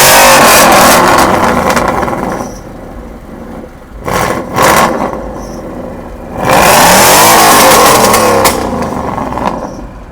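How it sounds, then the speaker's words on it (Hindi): Roush Stage 2 Ford Mustang GT V8 on its loud aftermarket exhaust, revved hard in bursts: a roaring rise, a drop to a lumpy idle, two short sharp blips, then another long loud rev, all close and with no talk. "एक बार इसका एग्जॉस्ट का साउंड थोड़ा सा सुनाते हैं"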